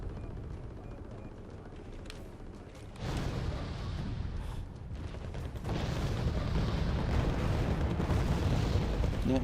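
A continuous, heavy rumble of bomb explosions rolls through a Wargame Red Dragon battle. It surges louder partway through and then holds as a dense, booming roar with no distinct separate blasts.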